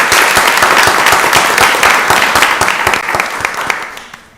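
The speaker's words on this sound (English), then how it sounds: "Give them another round of applause." Meeting audience at a county board of commissioners session breaks into sustained, loud applause with dense clapping, tapering off toward the end.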